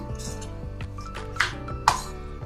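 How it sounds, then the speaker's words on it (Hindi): Light spoon clinks against a bowl as radish cheela batter ingredients are stirred together, two sharper taps standing out over a steady soft musical background. "इन सारी चीजों को अच्छी तरीके से मिक्स कर लेंगे"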